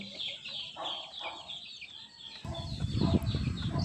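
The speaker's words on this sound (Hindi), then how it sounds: "कुड़क मुर्गी उठ के आ गई है, इसका ये टाइम नहीं है" A broody Aseel hen clucks nearby in a farmyard, low repeated clucks rising into louder, denser calls toward the end, with other birds chirping faintly behind.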